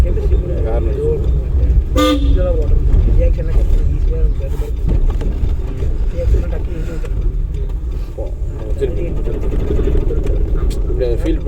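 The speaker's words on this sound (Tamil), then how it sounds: "ஹார்ன் அடிச்சுக்கணும்" A car horn gives one short sharp honk near the start, heard from inside a moving vehicle during a driving lesson, with the engine and road noise running throughout and an instructor talking.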